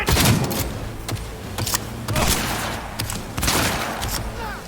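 Gunfire in the Cyberpunk video game, repeated bursts of shots and booms in clusters with sharp cracks between, loud and close throughout.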